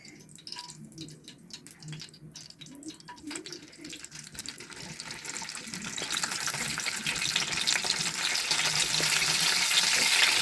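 Tomatoes frying in hot oil in a pan for a quick tomato chutney, a soft bubbling crackle that grows louder and brighter over the second half, with scattered light clinks early on and no voices.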